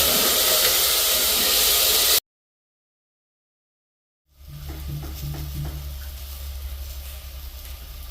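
Fenugreek and ginger sizzle as they are sautéed in a pan with a steady hiss. The sound cuts out completely for about two seconds, then the frying returns more softly with a few stirring scrapes.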